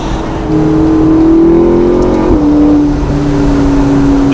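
A 2015 McLaren 650S Spider sports car accelerates hard, its engine note climbing steadily, dipping briefly at a gear change, then rising again, loud and close with no talk over it.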